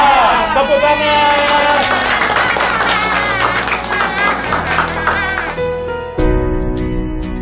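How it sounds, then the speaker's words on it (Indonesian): A church congregation at an anniversary service claps and cheers loudly, with a crowd roar and clapping over music and a held musical chord toward the end. "Kamu hebat, tepuk tangan."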